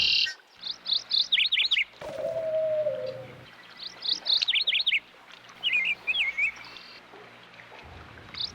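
Birds chirp and trill in bursts during early morning bird watching, bright repeated calls with a low background hum and one brief lower whistle.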